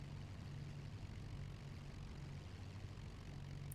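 In Microsoft Flight Simulator, a Lancaster bomber taxis onto the runway with a steady, droning rumble of its propeller engines that holds evenly throughout at moderate loudness.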